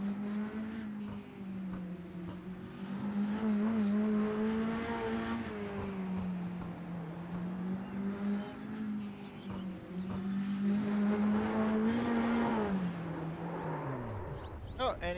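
Race car engines in a racing video game hold a steady, high-revving drone that rises and dips slightly for about fifteen seconds, with someone talking over the engine noise.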